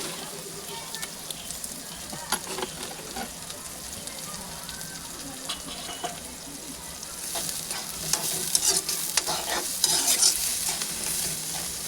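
Onions sautéing in a pan for a home-cooked chicken curry make a steady, soft sizzle with scattered stirring scrapes, growing a little louder and crackly toward the end, with no talk over it.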